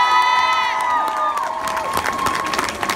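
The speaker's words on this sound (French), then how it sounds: "on peut l'applaudir" At a live radio concert in Marseille, a crowd erupts into cheering and applause as a held musical chord fades, with whoops and shouts rising over sharp, busy clapping.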